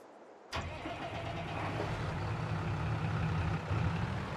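Claas Arion 660 tractor engine starting in Farming Simulator 22: a sudden crank at half a second catches into a steady, rumbling idle with a faint surge near the end, close and alone with no talk.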